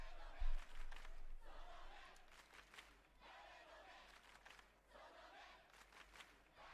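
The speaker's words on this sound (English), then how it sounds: "The crowd shouting, "Whose eyes were those eyes?"" A crowd in the video game Chaos;Head NoaH shouts in rhythmic, chant-like surges. The massed voices rise and fall in repeated waves at moderate distance, with a brief thump near the start.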